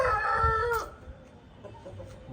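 An Aseel rooster crows loudly and close by, a single drawn-out call that cuts off sharply, followed by quieter farmyard background noise.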